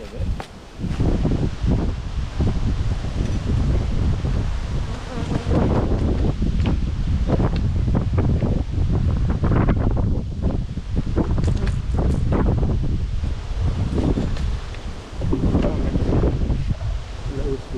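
Cold wind gusts and buffets the microphone beside an open beehive during a spring honey harvest, a loud continuous roar with rustling, nearly drowning out someone speaking.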